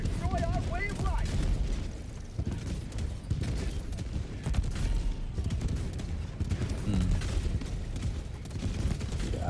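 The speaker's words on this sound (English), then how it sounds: "So continue just firing off shots here at these rocket devastators." Rapid gunfire in Helldivers 2 aimed at rocket devastators, dense repeated shots and thuds with explosive booms and mechanical clatter, loud and continuous throughout, with someone talking over the battle.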